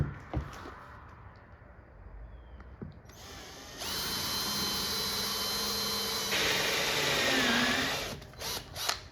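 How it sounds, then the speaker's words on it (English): Power drill driving a 1.125-inch hole saw through sheet metal for an arcade cabinet part, a steady loud whine held for several seconds between quieter handling noises and brief bursts at the end. "let's drill these 2 holes out."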